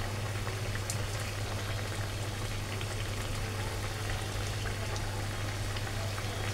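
Rupchand fish curry bubbling in a pan as the fish goes in, a dense, even, low-level simmering patter that carries on throughout.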